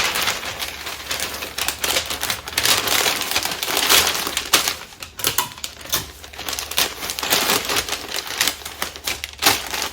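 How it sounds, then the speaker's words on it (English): Vintage shoes being wrapped in packaging paper, giving continuous close crinkling and crumpling with sharp rustling bursts over several seconds, no voice. "I'm going to wrap it up in some packaging paper."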